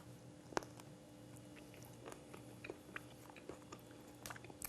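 Someone bites into and chews a fruit snack made with almonds, giving faint scattered crunches and soft chewing close up over a low steady background hum.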